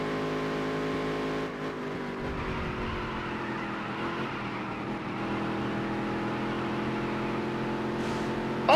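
Race car engines drone steadily on a dirt track in the NASCAR Dirt to Daytona video game, a sustained close engine hum that shifts pitch slightly as cars run, with a brief sharp noise at the very end.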